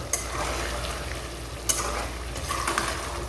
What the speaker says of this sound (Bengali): এখন একটা নাড়া দিয়ে দেবো